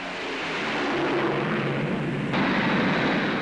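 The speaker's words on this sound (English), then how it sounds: "the Avro Shackleton, the largest military aircraft in the show, a long-range maritime reconnaissance bomber" Avro Shackleton long-range maritime reconnaissance bomber, the largest military aircraft at the 1949 Farnborough air show, passing as a steady, loud, broad engine roar that swells slightly and holds for a few seconds.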